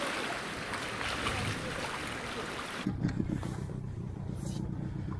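Choppy lake water with whitecaps slaps an inflatable jon boat under strong wind, a dense roar of wind and spray that shifts to closer splashing against the hull partway through.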